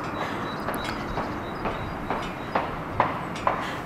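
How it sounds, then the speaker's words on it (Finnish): A tram passes along a city street near Pyynikki observation tower, a steady rolling rumble with light rhythmic clicks from the wheels, heard from a moderate distance. "Tuo ratikka tuo."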